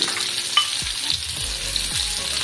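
Chopped onions frying in hot oil, a dense close hiss of sizzling with occasional spatula taps and scrapes against the pan, steady throughout and free of speech.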